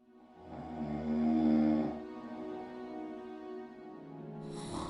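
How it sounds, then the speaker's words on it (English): Loud, slow snoring drifts from a room in the game Gabriel Knight 3, one long rumbling inhale swelling and fading, followed by a quieter drawn-out breath and the start of another snore. "And he's snoring."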